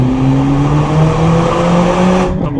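Mercedes-Benz CLA45S AMG engine revving hard in a steady, loud pull with tires squealing over it, then cutting off abruptly at the end.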